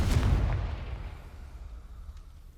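A Confringo blasting curse erupts in the Hogwarts Legacy video game as a loud, booming explosion that hits hard at the start, then rumbles and fades into a long decaying tail.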